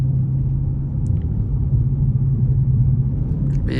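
A Dodge Scat Pack 392 Widebody cruises along, its engine giving a loud, steady, deep low rumble from inside the cabin, with a brief faint click partway through and a short rise in noise at the end.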